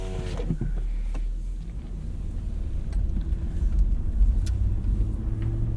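A 2000 Lexus LX 470 with 290,000 miles drives on, its engine rumble and road noise steady and low from inside the cabin, with a few small clicks and knocks.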